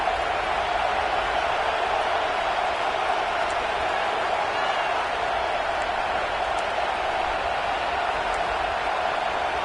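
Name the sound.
stadium crowd cheering at a Kentucky football game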